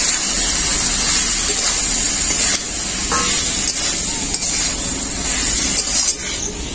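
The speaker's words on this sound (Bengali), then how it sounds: "ছোলা আর আলুটা দিয়ে দেব।" Boiled chickpeas and potatoes hit a hot pan of well-fried spice paste, giving a steady, loud sizzle with bursts of spattering and the scrape of stirring, no voices.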